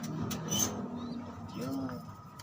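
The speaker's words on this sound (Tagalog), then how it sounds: "Malikot na kalapatids." Tippler pigeons shuffling and cooing softly nearby, with low throaty coos, light movement noises and a brief human voice mixed in.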